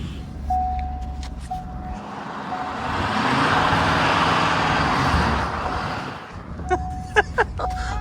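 A pickup truck revs and spins on a sheet of ice beside a sawmill, its engine surging and bogging in a loud, sustained rumble mid-clip. A short beep and sharp knocks sound at the end.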